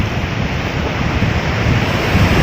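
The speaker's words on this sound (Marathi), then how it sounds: "समुद्राच्या लाटा मित्रांनो पाहू शकतो आपण." Sea waves breaking on the shore at Tarkarli beach in Sindhudurg, a continuous loud roar of surf mixed with wind buffeting the microphone, with no voices.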